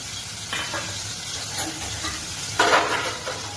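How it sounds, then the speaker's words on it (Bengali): Fish sizzles and crackles in hot oil, a steady frying hiss with a sudden louder burst of spattering near the end. "ওই মাছগুলো ভাজা হয়ে গেছে, আমি আবার মাছ দিচ্ছি।"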